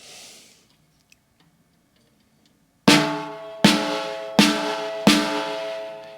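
An over-tightened snare drum hit four times in quick succession. Each stroke sounds choked and boxy, with a short ringing tail, after a few seconds of near silence.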